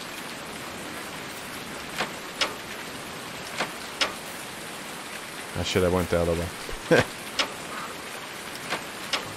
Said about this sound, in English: Oh, look at the day. It is a rainy day